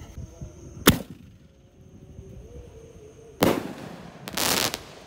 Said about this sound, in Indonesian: Dan ini penutupnya lontar Roman candle warna biru.